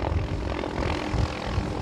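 A helicopter flies overhead above Waikiki Beach in Hawaii during a May Day honor ceremony, giving a steady, broad rotor-and-engine roar that fills the whole clip at moderate distance with no speech over it.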